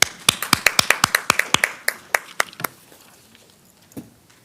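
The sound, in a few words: audience applause at a school board meeting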